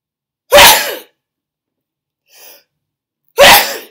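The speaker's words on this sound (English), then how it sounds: "I'm going to sneeze." Two loud sneezes about three seconds apart, close by, with a faint short breath between them and silence otherwise.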